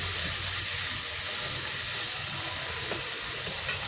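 Cumin seeds and black pepper sizzle in hot oil in a pan for a Bengali rui fish kalia curry, a continuous close hiss and crackle heard alone.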